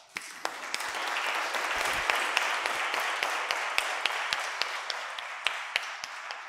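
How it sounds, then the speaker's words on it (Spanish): Audience applause after a puppet show story, dense sustained clapping from a crowd with some sharp individual claps standing out, steady and fairly close for several seconds. "El público prorrumpió en una catarata de aplausos."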